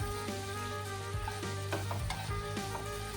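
Fried rice with soy sauce, chili sauce and sugar tossed in a pan, a dense sizzle under steady spatula scraping and clinks, close by, with a low hum beneath.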